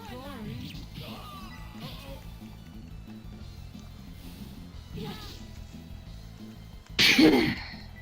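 A single loud sneeze bursts out near the end, following quieter stretches of game sounds and background noise.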